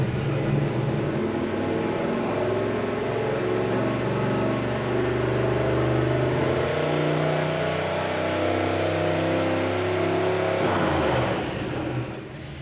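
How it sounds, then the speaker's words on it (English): A Mazda car engine on E85, turbocharged, revs hard on a dyno during its first pull, a loud sustained mechanical roar with rising and falling tones that cuts off near the end. "it's time to make our first dyno pull"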